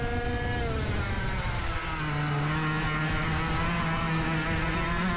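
Racing kart engine droning steadily on a track, a continuous buzzy note that shifts pitch as the kart changes speed, loud and close throughout with no talk.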